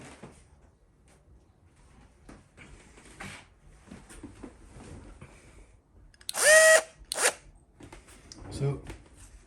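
A power tool reams deprimed 9mm brass cases one at a time, with a loud whirring burst and a shorter second burst amid quieter handling clatter, while someone talks.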